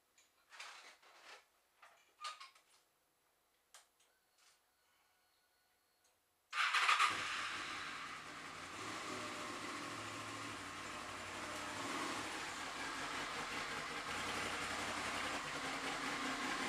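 Honda VFR motorcycle engine starts after a few faint clicks and knocks, then settles into a steady idle and ride-in drone that holds close and even.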